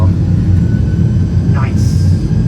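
Airbus A320 jet engines roaring in reverse thrust after landing, a loud, dense, steady low rumble that fills the whole span.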